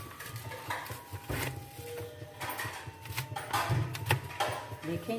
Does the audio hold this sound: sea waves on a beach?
no